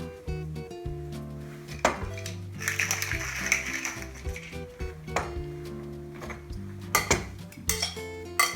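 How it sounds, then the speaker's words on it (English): Salad greens tossed with dressing in a bowl, with steady clinking and scraping of utensils against the dish in an uneven rhythm and a faint tonal hum underneath. "Give that a little toss to get the greens coated with the dressing"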